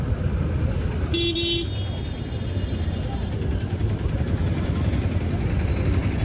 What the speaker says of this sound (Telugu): ఇక్కడ రేణిగుంట, తిరుచానూరు వచ్చే బస్సెస్ అన్ని ఇక్కడ స్టాప్ చేస్తారు